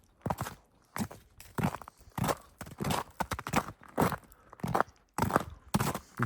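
Footsteps crunch through snow outdoors on a winter camping trip, a steady series of about a dozen close, crisp crunches in an even walking rhythm, with no talking.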